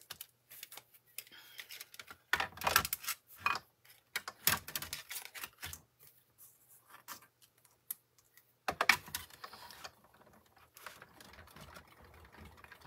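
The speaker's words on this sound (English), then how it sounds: "let me bring in my die cutting machine" A hand-cranked die cutting machine runs a card through for crafting, giving irregular bursts of clicking and rattling close by with brief pauses between passes.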